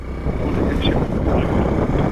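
Tiny engine of a new motorbike running steadily on a ride past horse droppings, a continuous close rumble mixed with wind buffeting across the whole stretch.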